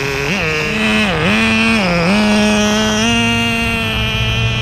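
Thunder Tiger F-1 nitro RC formula car with a laydown engine, its small engine buzzing loudly and continuously at high pitch, rising and dipping as the throttle changes, heard close and alone.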